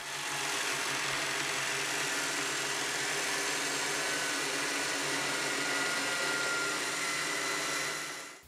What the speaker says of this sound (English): finally I can check how this disc sander works